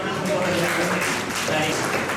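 An audience at a mathematics teaching workshop claps together in a steady, dense wash of applause that lasts throughout, with voices mixed in underneath.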